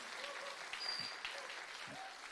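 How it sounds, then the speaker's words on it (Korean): Congregation applause greeting a pastor during a Korean church service, faint continuous clapping from a group, steady and fairly distant, with a few low thuds and murmured voices. "박수로 인사하지 않았나?"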